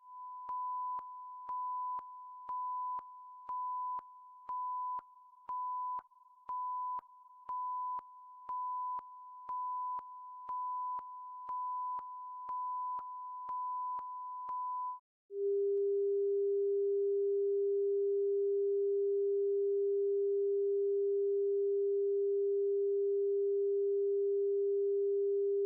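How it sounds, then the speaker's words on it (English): CBC Winnipeg radio lineup test tones before a weekday morning show: a steady pulsing sine beep repeats for about fifteen seconds, then after a short gap a lower continuous sine tone holds loud and unbroken. "Here are the lineup tones in advance of the CBC Winnipeg weekday morning show."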